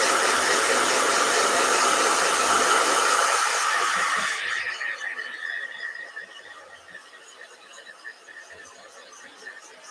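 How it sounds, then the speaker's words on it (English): A handheld blow dryer runs loud and close with a steady rushing whir for about four seconds, then shuts off and its noise trails away into quieter room sound. "Blow dryer."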